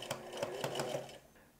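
A sewing machine stitches a bomber jacket, its motor running in a quick steady burst of rhythmic needle strokes that stops after about a second, leaving a quiet room.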